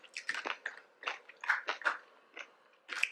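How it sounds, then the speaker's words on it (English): Crunchy salad chewed up close during a sushi mukbang, a series of moist, crisp bites and crunches in an uneven rhythm, about ten chews with brief pauses, no talking. "This salad is just so good. I love the crunch to it."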